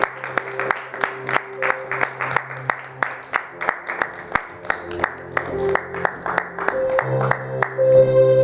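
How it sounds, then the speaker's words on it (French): A church congregation claps loudly in steady rhythm during worship, with voices and sustained tones underneath, the beat running throughout. "Acclamons très fort pour le Seigneur."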